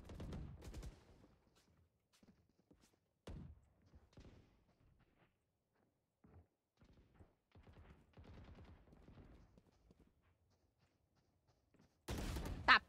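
Gunfire in a multiplayer shooter video game comes in scattered bursts, with sharp loud shots at the start and end and quieter distant reports between, while a player talks intermittently.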